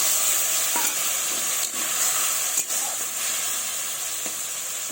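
Steady, loud sizzling hiss from potatoes frying in a pan as a little water is added before covering, with a few soft clinks of a utensil against the pan and no talking.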